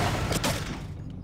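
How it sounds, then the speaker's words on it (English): A controlled explosion blows open a locked door in the video game Batman Arkham Origins Blackgate, a brief muffled burst with a rushing noisy tail that fades out quickly. "can be temporarily taken offline with a controlled explosion"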